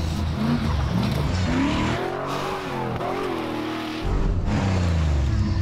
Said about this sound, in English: Straight up here, do a U-turn, and drive back down the same course.